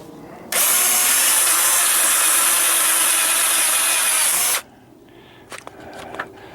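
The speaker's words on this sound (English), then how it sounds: "Power tools. Especially this one." A handheld power tool, likely a drill, runs at full speed for about four seconds with a loud, harsh whine, then cuts off abruptly, leaving quieter clicks and handling knocks.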